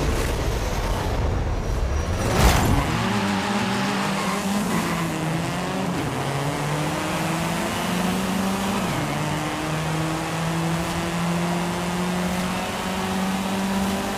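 Engine of a 1999 Ford Racing Puma converted from front-wheel to rear-wheel drive, in a Forza Horizon 5 race start: a loud, close engine revving, then rising through the gears with a sharp burst early on, and sustained high-pitched whine.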